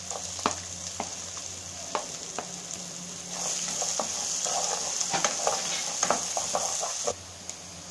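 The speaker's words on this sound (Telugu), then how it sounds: "ఇప్పుడు పచ్చిమిరపకాయ ముక్కలు, ఉల్లిపాయ ముక్కలు కూడా వేసుకోవాలి." Chopped green chilies and onions frying in a pan for aloo poha, a steady hissing sizzle with repeated scraping stirs and spatula taps throughout, close and moderately loud.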